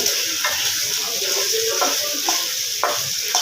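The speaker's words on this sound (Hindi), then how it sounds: "ये देखिए यहाँ पर ये अच्छे तरीके से फ्राई हो रही हैं बोटियाँ।" Chicken pieces fry in a pan for a paratha roll filling, with a steady close sizzle broken by a few stirring scrapes and clinks; no one talks.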